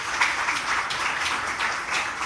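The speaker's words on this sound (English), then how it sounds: "Shakira Burton, please give her another round of applause." An audience at a literary festival applauds with steady, dense clapping that stays at an even level throughout, with no voices over it.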